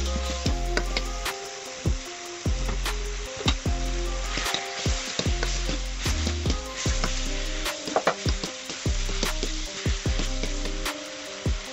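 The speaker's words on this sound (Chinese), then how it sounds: "翻炒到豆角碧绿" Green beans and potatoes stir-fried in a wok over tomatoes cooked down to a pulp, loud continuous sizzling with rhythmic spatula scrapes and tosses, close up, with background music and no talk.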